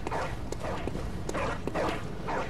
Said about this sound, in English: I hear dogs which make me paranoid as fucking shit.